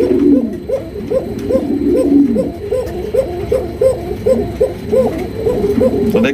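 A male Pashiraj pigeon coos close by in a steady, repeated series of throaty calls, each phrase rolling into the next with hardly a pause.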